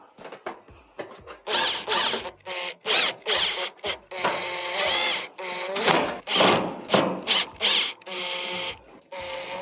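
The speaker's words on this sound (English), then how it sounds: "Now replace the other perimeter screws." Screws are driven back into the perimeter of a Maytag stove panel, a close, loud run of short whirring bursts with brief gaps between them, repeating steadily.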